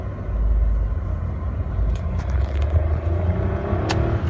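A 2006 Suzuki Lapin SS with a five-speed manual gearbox and about 180,000 km idles with a steady low rumble, quiet and even, with a few faint clicks and taps on top.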